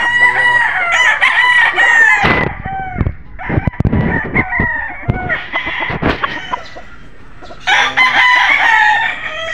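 A street-breed Golden Boy gamefowl rooster crows loudly and close by, several harsh, drawn-out calls with short clucks and scuffling between them.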